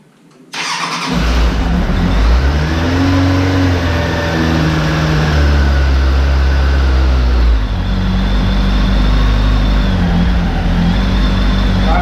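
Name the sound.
Suzuki GSF600 motorcycle engine starting and warming up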